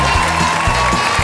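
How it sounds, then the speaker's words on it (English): A TV studio audience on the comedy panel show Good News Week claps in a loud, dense burst of applause that fills the whole short moment. "Give them a round of applause"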